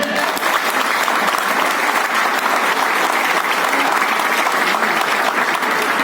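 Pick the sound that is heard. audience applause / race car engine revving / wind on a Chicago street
audience applause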